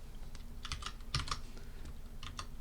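Typing code on a computer keyboard: quick, faint clusters of key clicks in irregular bursts, close and quiet, with no voices.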